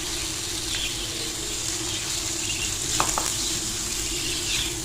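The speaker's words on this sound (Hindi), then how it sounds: "तो हम प्याज को इतना फ्राई करेंगे कि ये थोड़ा सा सॉफ्ट हो जाए" Sliced onions fry in half a cup of oil in a pan, a continuous close sizzle with a couple of brief stirring clinks and no speech.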